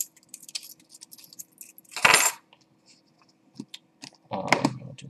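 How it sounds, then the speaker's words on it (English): Metal keys jangle and clink in two short bursts, a sharp rattle followed a couple of seconds later by a longer shake, close by amid small handling clicks. "I have my keys."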